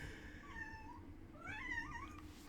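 Two pet cats make long, wailing, caterwauling meows in the background of an indoor room, with two drawn-out yowls rising and falling over a constant low hum.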